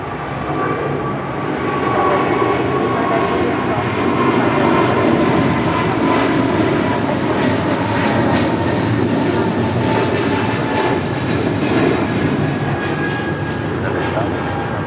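An airliner powers up for a south side departure on runway 25 right at Los Angeles International Airport, producing a loud, sustained engine roar that swells and holds throughout, with people talking beneath it.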